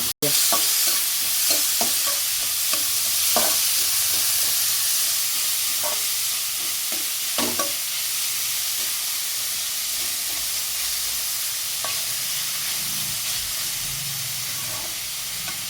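Onion and chili frying in a pan with popped mustard seeds for bitter gourd poriyal, a steady loud sizzle with scattered crackles and stirring clicks throughout, no talking.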